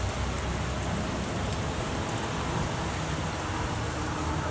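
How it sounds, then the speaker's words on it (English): Heavy rain pours down steadily in a dense, loud hiss outside an apartment during a thunderstorm, unbroken and alone, with no thunder clap standing out. "That was the loudest thunder and rain."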